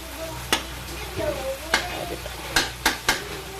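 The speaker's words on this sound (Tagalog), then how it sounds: "Yan, nagisa ko na yung bawang, sibuyas, at yung corned beef." Garlic, onion and corned beef sizzle in a pan while a spatula scrapes and knocks against it in several sharp clacks over a steady hiss, close and fairly loud.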